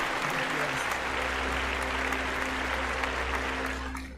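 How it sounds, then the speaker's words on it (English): Steady applause from a crowd, dense clapping that holds evenly and begins to fade at the end. "I'll take my applause. All right, take care. Here's your applause."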